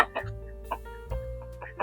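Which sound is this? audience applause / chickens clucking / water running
chickens clucking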